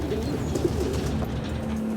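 Pigeons riding in a truck on a highway, startled after the vehicle ahead braked suddenly, coo softly a few times over a steady low rumble of road and engine noise.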